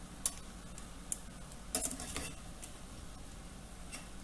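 Spinach leaves wilting in a pan, turned and tossed with a utensil: sparse, soft clicks and scrapes against the pan over a quiet, low background, with a brief cluster of rustling contact near the middle.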